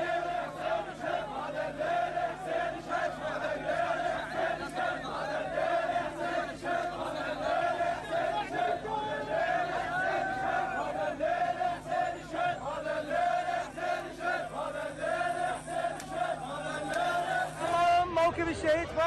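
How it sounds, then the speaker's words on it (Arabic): Tishreen protesters from Babil and Karbala chant in unison during a pilgrimage ceremony, a dense rhythmic mass of voices that stays steady and loud throughout. "لنشاهد جانبا من هتافات ثوار تشرين المشاركين في مراسم الزيارة من محافظتي بابل وكربلاء"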